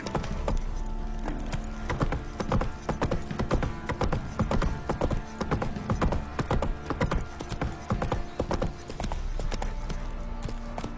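Hooves of Roach, Geralt's horse in The Witcher 3: Wild Hunt, clip-clop in a quick, steady rhythm, close and clear, with occasional soft mechanical creaks.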